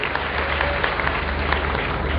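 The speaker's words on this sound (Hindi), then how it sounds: "आप सब प्रणाम करो, जोरदार तालियों से स्वागत" Loud, dense applause from a large crowd welcoming guests at a public gathering at Kalki Dhaam in Sambhal, a continuous wash of clapping throughout.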